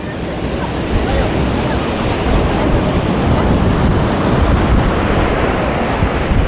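Sea surf breaking on the beach at Somnath, a steady, loud wash of waves mixed with heavy wind buffeting the microphone, continuous throughout with no clear pauses.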